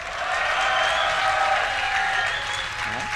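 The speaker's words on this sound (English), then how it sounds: "give a cheer for Sjow!" Live crowd at a Dreamhack esports event for a StarCraft match, sustained applause and cheering from a large audience, steady and fairly loud, fading slightly at the end.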